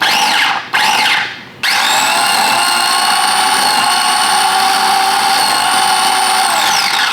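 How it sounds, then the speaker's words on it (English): A lidded kitchen grinder whirs loudly as it blends a juicy lemon mixture, starting with two short bursts and then running in one steady, high-pitched whine for several seconds before winding down. "Let's get our lid on and give this a grind."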